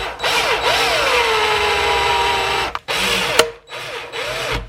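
A power tool snugs bolts on a 3D-printed headlight bracket for a Yamaha TW200 motorcycle, whirring steadily with rising and falling pitch and stopping briefly several times.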